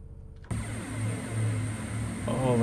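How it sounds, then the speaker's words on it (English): A Voyager VT221 diesel train engine in Train Simulator accelerates from a standstill, its loud drone starting abruptly and building steadily, with a rising whine near the end. "Oh, that beautiful engine."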